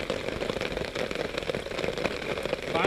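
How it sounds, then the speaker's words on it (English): Steady rain patters on a tarp overhead at a campsite in a dense, even hiss, close by and continuous, with no talking. "It's been raining for"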